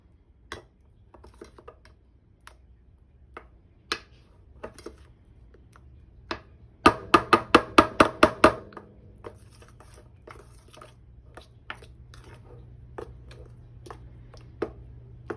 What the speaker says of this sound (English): as I mix, I tap my bowl to release the air bubble